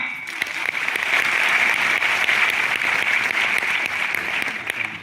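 An audience at an anniversary speech event applauds Pradeep with a sustained, fairly loud burst of clapping that holds steady for several seconds.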